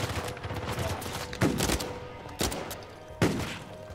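Gunfire cracks in the video game Uncharted 4, three distinct loud shots about a second apart over a busy, rumbling background of combat noise.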